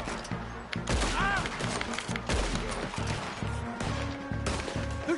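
Repeated loud gunshots crack in quick bursts during a Red Dead Redemption 2 firefight, close and punchy, mixed with crashing impacts and a brief high ringing tone.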